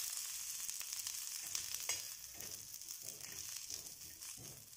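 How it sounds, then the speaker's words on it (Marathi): Chopped onion roasting in a pan with a little oil for a spicy Khandeshi masala curry gives a steady, close sizzling hiss, broken by soft scraping stirs, with no voices. "कांदा अर्धवट भाजला गेला म्हणजे नंतर तेल टाकायचं।"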